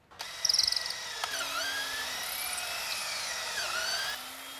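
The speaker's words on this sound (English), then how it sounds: "The 3 mounting holes will be drilled with the 3/16 drill bit" A power drill with a 3/16 bit whirs after a few quick clicks, drilling mounting holes for a boat trim tab kit, its high whine dipping and recovering as it bites in, running steadily for several seconds.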